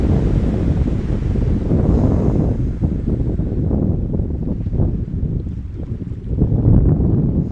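Ocean waves wash in a steady broadband roar, loud and continuous, with swelling and easing surges and some wind buffeting, with no voices.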